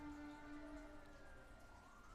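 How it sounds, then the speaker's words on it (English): An ambulance siren wails faintly in the distance, a thin, wavering tone that fades slightly across the short clip. "Now the ambulance is coming"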